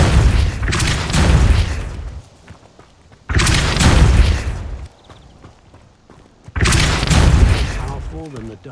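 Depulso spell blasts in Hogwarts Legacy, a video game: three loud, booming bursts arrive at roughly even intervals, each swelling and lingering for about two seconds before fading into quieter game ambience with faint rattles between them.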